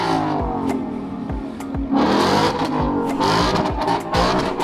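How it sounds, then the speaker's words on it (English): Dodge Challenger and EcoBoost Mustang engines rev and roar continuously at a street car meet, with bursts of acceleration and sharp throttle blips over a steady rumbling background. "There's a Dodge Challenger now, an EcoBoost Mustang."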